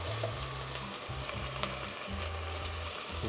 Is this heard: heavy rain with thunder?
no